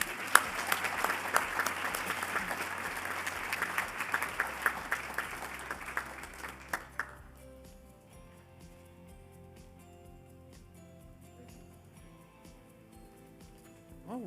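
Spring awards audience giving two award winners a round of applause, a dense burst of clapping with sharp individual claps that stops abruptly after about seven seconds, leaving a quiet room with faint sounds.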